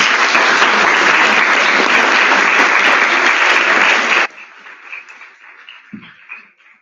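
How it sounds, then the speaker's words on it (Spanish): An audience applauds a debate panel, loud, dense clapping for about four seconds that cuts off abruptly into a quiet room with a few faint stray sounds. "Un aplauso."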